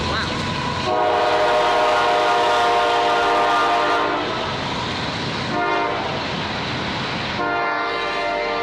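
A train rumbles past close by, its horn sounding in long sustained blasts over the steady roar and clatter of the cars.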